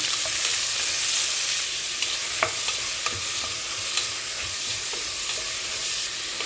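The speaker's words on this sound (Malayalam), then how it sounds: "അരിഞ്ഞ് വെച്ച ഉള്ളി ഇടാം നന്നായിട്ടൊന്ന് മൂപ്പിച്ചെടുക്കാം" Steady hiss of chopped onions frying in a hot pan, with a few light clicks and scrapes scattered through, no talking.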